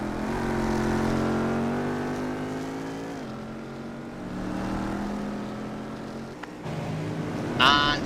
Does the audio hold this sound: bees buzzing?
no